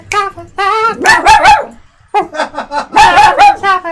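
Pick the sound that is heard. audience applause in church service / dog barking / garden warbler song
dog barking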